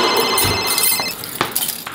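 A mobile phone rings indoors with a continuous electronic ringtone. The tone is loud and close, with a few small knocks and handling sounds under it.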